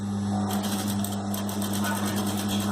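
An industrial sewing machine stitches gently at a slow, steady pace, producing a continuous mechanical hum with a rapid regular clatter.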